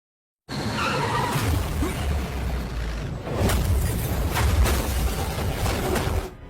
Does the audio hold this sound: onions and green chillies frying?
no